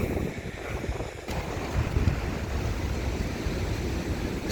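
The Thengo Dam waterfall at Sonpur, Odisha, gives a steady broad rush of flowing water, continuous and fairly distant, mixed with wind buffeting the microphone and no voices.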